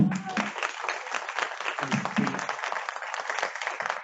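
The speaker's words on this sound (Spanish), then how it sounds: "Un aplauso para el doctor." An audience at an education policy panel applauds a doctor, a brisk wash of clapping that holds steady for a few seconds at moderate level, with a faint voice briefly under it at the start.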